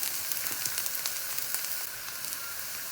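Spicy egg masala frying on a tawa sizzles steadily at close range with faint crackles, and the sound thins slightly toward the end.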